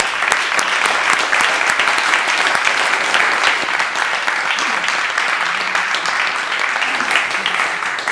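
Dutch council chamber applauding the acting mayor at her first council meeting, a sustained, even wash of clapping from many hands lasting throughout at steady loudness.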